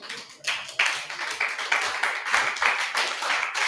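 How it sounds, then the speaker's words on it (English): A church congregation claps hands together in a loose, continuous stream of overlapping claps that keeps going throughout, close and lively, with no speech. "If you want to clap, clap nicely"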